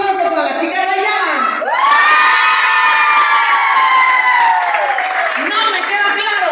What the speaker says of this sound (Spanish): ¡Aplausos para la chica rayada!